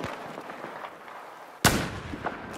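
A single sharp, loud gunshot, likely an SV-98 sniper rifle, cracks out midway through a Battlefield 4 match on the Flooded Zone map, rising over a steady bed of distant battle noise.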